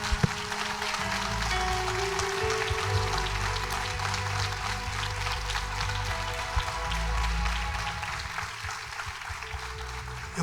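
Steady, dense applause from a church congregation fills the whole stretch, broad and continuous with a low rumble beneath and no clear pauses.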